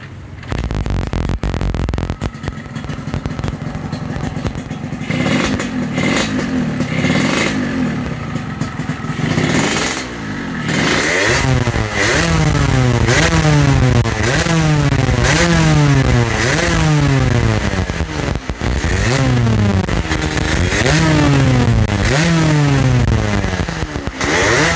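A Yamaha RX King motorcycle engine is kicked into life after a few clattering attempts, then revved hard again and again in a close, loud rising-and-falling pattern.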